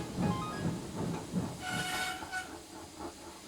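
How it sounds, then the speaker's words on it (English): Train wagons roll along rails on a Great Western model railway, giving a steady close rumble with a soft hiss and faint clickety-clack that runs throughout. "Noah moved the trucks onto another line, and Garrett came to pick them up."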